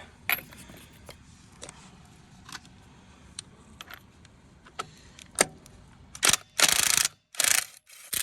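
Ratchet wrench with a 21 mm deep socket working on the brake cylinder of a third-generation Toyota Tacoma, sparse clicks at first, then rapid loud ratcheting bursts near the end, close up with no talking.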